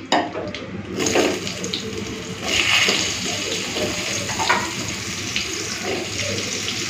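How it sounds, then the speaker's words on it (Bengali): A loud, watery hiss of eggplant frying in oil just used for frying hilsa fish, bubbling and spattering steadily, with a few sharper pops rising above the sizzle. "এই তেলে প্রথমে বেগুনগুলো ভেজে তুলে নিই।"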